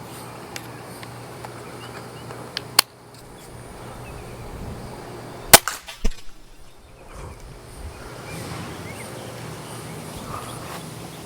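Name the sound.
pistol crossbow shooting bolt with aluminum insert and field point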